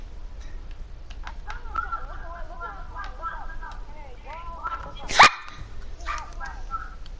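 A dog in the Minecraft video game barks in several quick yips and whimpers, moderately loud, with one sharp louder burst near the end.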